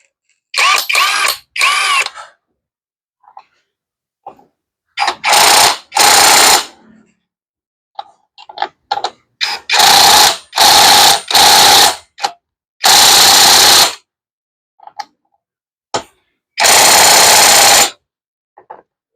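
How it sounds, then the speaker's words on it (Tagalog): A powered tool drives on the nut of a motorcycle sprocket in repeated loud close bursts of whirring, separated by silent pauses and small clicks. "Hahapitan ngayon natin yung nut nitong sprocket natin"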